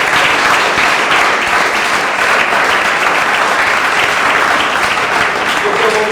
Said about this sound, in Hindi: मैं चाहता हूं एक जोरदार ताली से खुदावंद को जलाल दें।